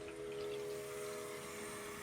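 Water running into the tank of a Mytee Lite 8070 heated carpet extractor, a steady close hiss and rush with a faint hum, continuous and without speech.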